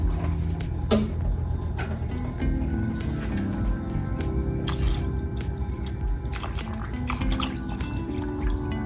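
Bottled water is poured into a cooking pot of meat, a quiet, continuous splashing trickle with a few small knocks and clatters in a kitchen.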